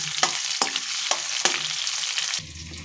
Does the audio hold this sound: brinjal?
yes